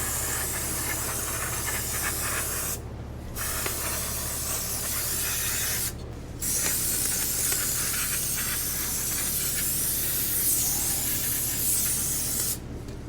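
Aerosol cleaner sprayed onto an oily brake rotor of a 2006 Polaris Sportsman 500 ATV: a steady, loud, close hiss that continues throughout, broken by three brief pauses, with no talk.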